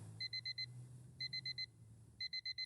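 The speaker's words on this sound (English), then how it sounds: "My mind is violently snapped back into wakefulness by the sudden blaring noise of the alarm." A video game alarm clock beeps in three quick clusters of four bright tones each, heard over a steady low hum.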